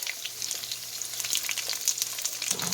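Onions and mushrooms fry in a little leftover grease in a pan, a soft steady sizzle with faint crackles and pops, close and alone.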